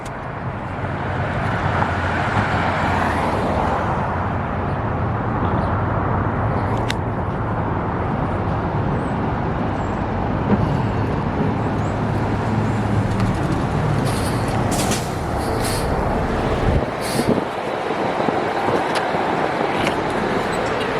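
Inside an MCI coach bus in Phoenix, a steady low engine and road rumble drones on under constant rattling and cabin noise, with a few sharp clunks and no speech.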